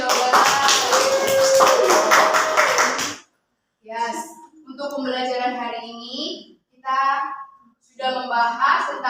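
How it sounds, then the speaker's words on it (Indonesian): Students in a classroom clap for about three seconds, a quick rapid patter of many hands, close and lively, before the clapping stops and a teacher talks with short pauses. "beri tepuk tangan untuk Mbak Jihan dan Mbak Gita yang sudah beri jawaban"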